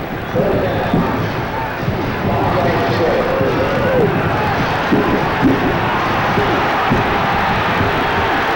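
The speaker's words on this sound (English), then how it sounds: "Crowd on their feet for this defensive series." A football stadium crowd at Sanford Stadium in Athens, Georgia, roars steadily through a Georgia versus Georgia Tech game as fans stand for a defensive series. The sustained, loud cheering holds throughout and swells at moments, with a commentator talking over it.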